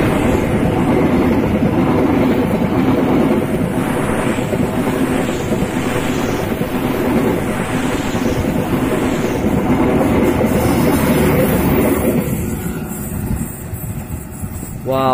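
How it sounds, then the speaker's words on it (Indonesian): The Brawijaya passenger train rolls past close by at a village cemetery on an afternoon, with a loud continuous rumble, wheel clatter and wind buffeting the microphone, fading toward the end. "Wah mantap nih teman-teman, kereta api Brawijaya."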